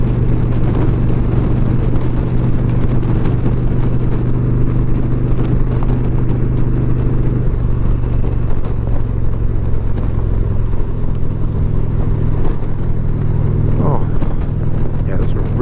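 A 2021 Indian Challenger Limited motorcycle cruising at about 70 mph, with a steady loud engine drone and heavy wind buffeting filling the whole stretch, plus a rider talking over the noise.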